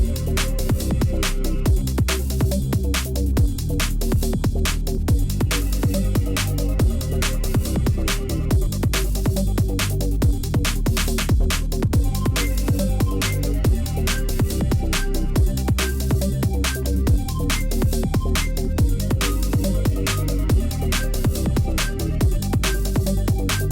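Atmospheric breakbeat track produced in Bitwig with the Phase Plant synth, steady driving drums under heavy, sustained pads and bass, playing loud and continuous throughout.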